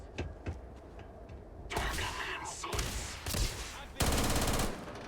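Automatic fire from the Allied Armaments PDW-27 in the video game Starfield, heard as loud rapid bursts of shots separated by brief gaps, with no talking over them.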